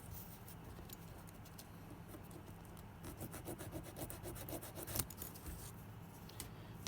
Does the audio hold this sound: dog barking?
no